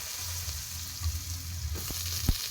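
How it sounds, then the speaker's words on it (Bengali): Potatoes sizzle in hot oil in a pan with cumin seeds, a steady close frying hiss with a few soft clinks and stirring knocks near the end. "আলুটা দিয়ে দেবো,"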